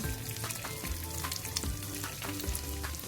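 Butter cheese bread frying in a buttered pan, a close, steady sizzle and crackle with occasional clinks and scrapes of a utensil, no talking.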